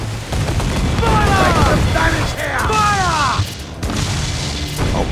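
Ship cannons fire in Assassin's Creed Black Flag: heavy booms and crashing blasts at sea roll under loud, excited shouting voices.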